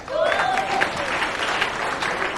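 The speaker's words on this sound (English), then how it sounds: "Round of applause for Dov" Seminar audience breaks into a short, loud round of applause, dense clapping throughout with faint voices mixed in.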